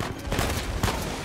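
Gunfire in the video game Uncharted 4: dense, overlapping bursts of shots fill the clip, loud and close, with two sharper blasts standing out.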